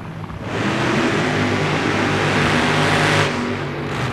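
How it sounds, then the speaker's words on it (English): A big drag racing show car engine roars loudly and steadily at close range, swelling after a moment and easing off near the end, with no voices over it. "You hear the substantial difference in the sound of this car."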